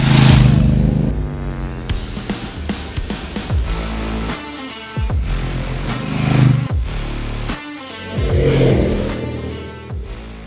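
Three 1100cc motorcycles ride on Portuguese country roads, their engines revving loudly and close through repeated rising and falling pitch sweeps as they accelerate and shift gears.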